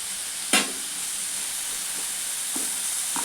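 Coriander seeds fry in hot oil for a village-style biryani, giving a steady soft sizzle and hiss with a sharp crackling burst near the start and a few light clicks later.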